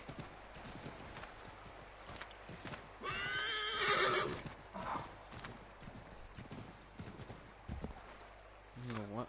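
In the video game Assassin's Creed 3, a horse gives a loud whinny amid steady clip-clopping hooves, with someone talking over the faint ambient background.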